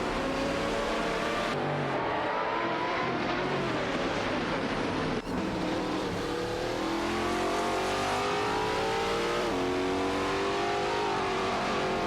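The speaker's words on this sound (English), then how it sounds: "Jessax 72 and Barely Social are in a fierce battle with their Lamborghini Murcielago RGTS" Several Lamborghini Murcielago RGTS race cars roar continuously in a racing video game, engines revving and shifting through gears with rising and falling pitch, loud and sustained with no talk.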